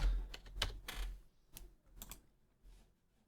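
Keys clatter on a computer keyboard in quick, uneven bursts with short pauses, fairly faint and close. No one speaks over the typing.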